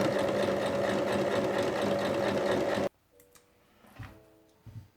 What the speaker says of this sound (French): on va épingler et on va piquer ici à 1 cm tout le long